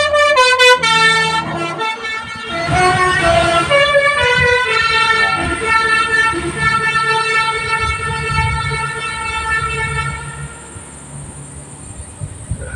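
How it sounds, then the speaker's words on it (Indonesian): Busy main road beside the Heroes' Cemetery in Selayar, with car horns honking and a steady wash of traffic noise throughout, and an insect-like shrill hum in the background. "itu agak bising di sini karena di sini jalan poros di Taman Makam Pahlawan ini"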